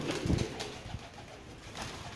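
Pigeons land and coo softly in low, murmuring calls, with faint rustling and background ambience throughout.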